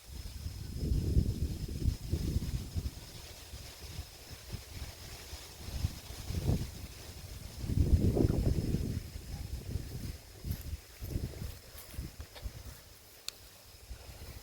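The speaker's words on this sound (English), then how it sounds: "you can even see the wind is blowing now as well" Wind gusts outdoors in a garden where tomato cages are being built, buffeting the microphone in rumbling surges that rise and fall across the whole stretch.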